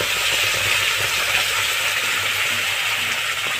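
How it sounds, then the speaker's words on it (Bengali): Cumin seeds and bay leaves tempering in hot oil, a steady, close, continuous sizzle of frying spices that holds evenly throughout with no talking. "জিরে আর তেজপাতা দিয়ে দিয়েছে, তেল যেহেতু গরম রয়েছে বেশিক্ষণ লাগবে না কিন্তু ফোড়নটা পুড়তে।"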